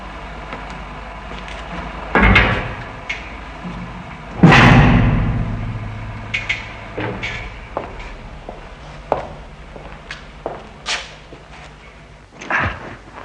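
A 6-inch steel blast door in a blast escape room swings shut with a heavy thud, followed by scattered metallic knocks and clanks that echo in an enclosed space.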